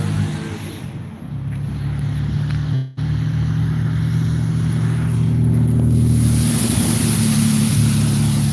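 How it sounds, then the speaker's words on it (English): Engine or generator running steadily at a public works site, a constant low droning hum with a brief dropout near the start, continuing at an even level with no talk. "Or is that the generator in the background?"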